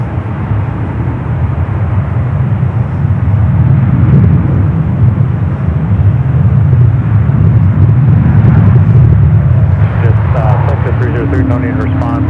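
Airliners at San Francisco International Airport (SFO) produce a steady, loud jet roar that holds for the whole stretch, with people talking faintly underneath.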